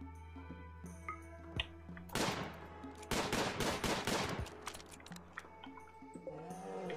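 Gunfire in the video game Rimworld, two clusters of sharp rapid shots in quick succession over a low steady game hum, with some soft game sounds before and after.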